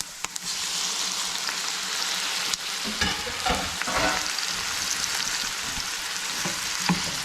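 Onions and tomatoes sauté in a hot pan with a continuous, bright sizzle and occasional clatter and scrape of stirring, close and loud with no talking.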